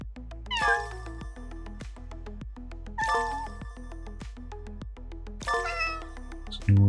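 Cats meow in the 100 Cats video game: three clear, drawn-out meows spaced a few seconds apart, set over a bouncy, plucked background tune that keeps playing under them.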